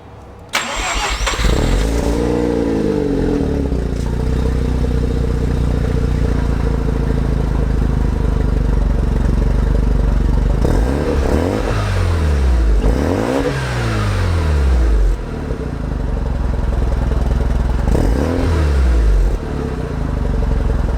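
A Mazda RX7 FD3S Type R Bathurst R rotary engine cranks and catches, then idles loudly up close before being revved in several rising and falling sweeps, with no talk over it.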